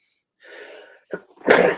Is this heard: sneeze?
yes